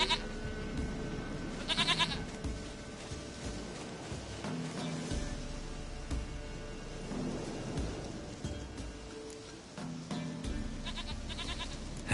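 A goat in The Witcher video game bleats a few times over steady rain and rolling thunder, the cries fairly close and clear above the storm.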